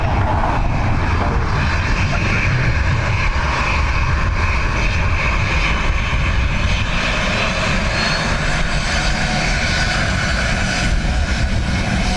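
Airliner jet engines roar steadily on the runway at Dublin Airport, a loud, broad continuous rumble with a whining upper layer holding for the full stretch without letting up.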